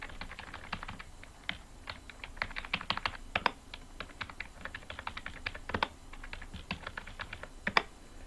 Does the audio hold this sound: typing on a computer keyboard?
yes